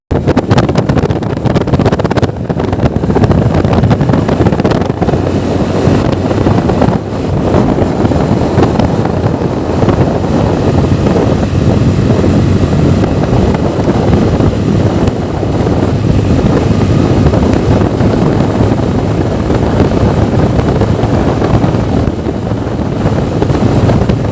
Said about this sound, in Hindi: अपनी रोड के ऊपर आकर मैंने अपने बाइक की जो है वो स्पीड चेक की।